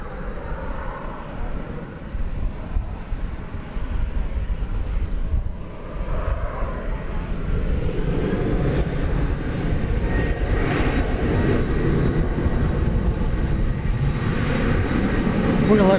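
An American Airlines jet takes off at DFW airport, a broad engine roar that builds steadily and grows louder over the whole stretch, with a faint whine on top and no talk.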